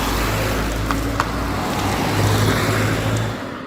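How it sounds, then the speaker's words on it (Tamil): A TNSTC bus arriving at a bus stand gives a steady, loud low engine rumble amid road noise, easing off near the end. "நமக்கு கீழே போறதுக்கு பஸ் வந்துருச்சுங்க."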